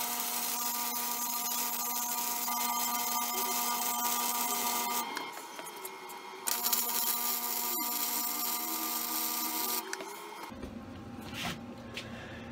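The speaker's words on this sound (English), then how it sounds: "Crank the welder up, because this is some thick steel." A flux core welder cranked up for thick steel, a loud continuous crackling buzz that cuts out and restarts in several long runs before stopping, with no voice.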